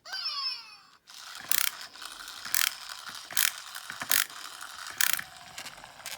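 A Zhu Zhu Pets toy playset slide mechanism with weak batteries makes repeated ratcheting, clicking bursts at a regular pace, close by, after a brief electronic chirp at the start.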